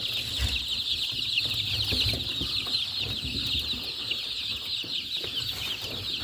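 A brood of 20-day-old Adler silver Dominant Sussex chicks keeps up a dense, continuous high peeping and chirping, close by, with occasional low clucks and soft shuffling.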